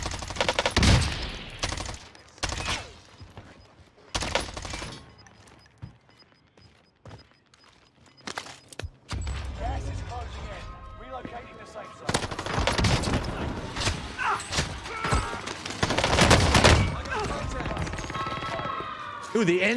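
XM4 rifle fire in Warzone on Rebirth Island, rapid automatic bursts in several clusters separated by quieter gaps, loud and close, with someone talking over parts of it.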